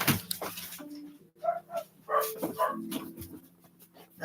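Dogs barking and whimpering nearby, with short yips and whines in bursts across the clip over a quiet indoor background.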